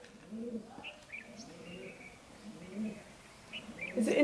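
Soft, muffled cooing from a pigeon at Bhangarh Fort, India, repeats a few times at a distance, with quiet voices and a louder rustle near the end.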